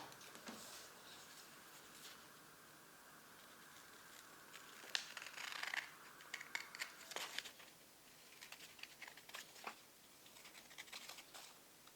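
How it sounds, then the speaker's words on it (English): Scissors cut a series of lines into paper for a winter festival craft, soft crisp snips and paper rustles at close range, coming in short irregular bursts. "So now we're going to carefully cut all of these lines from here to here."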